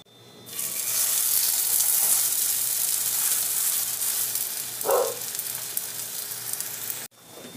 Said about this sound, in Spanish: Ahora sí la echaremos al sartén con aceite caliente.